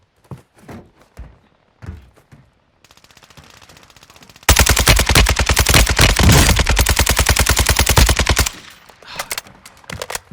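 Rapid bursts of automatic gunfire in the shooter Warzone 2.0 on the Vondel map, a dense loud stream of shots lasting several seconds, preceded by scattered footsteps and thumps and tapering into a few trailing sounds.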